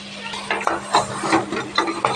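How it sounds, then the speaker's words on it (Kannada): Mutton pieces coated in masala are stirred in a pan for a mutton sambar, with repeated scraping and clinking strokes of a spoon against the pan over a faint steady background hum. "ಇವಾಗ ಫಸ್ಟ್ ಇದನ್ನು ಈ ಮಸಾಲೆ ಹಾಕ್ಕೊಳ್ಳೋಣ, ಹಾಕ್ಕೊಂಡು ಚೆನ್ನಾಗಿ ಫ್ರೈ ಮಾಡ್ಕೋಬೇಕು"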